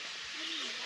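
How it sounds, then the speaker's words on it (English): A single soft cooing bird call among trees in the West MacDonnell Ranges, faint and somewhat distant over a steady hiss of background ambience. "There's birds everywhere."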